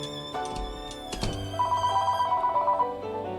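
Telephone ringing in the Sherlock Holmes: Secret of the Silver Earring video game, a steady bell-like ring sounding alone over a sustained background tone.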